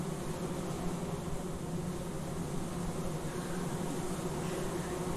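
Voice imitating a buzzing sound, a steady, faint, insect-like drone held without a break.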